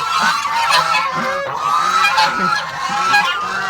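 A flock of geese on a farm honks continuously and loudly at close range, overlapping calls forming a constant noisy chorus.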